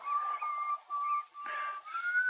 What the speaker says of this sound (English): will you please stop whistling?